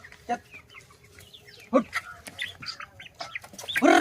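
Chicken clucking in a rural household, with a few short clucks and squawks near the mic mixed with people talking loudly in the background.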